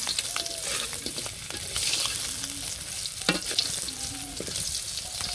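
Steady oily sizzle of fish frying, a dense crackling hiss with occasional sharper pops and faint scraping, close and continuous with no talking.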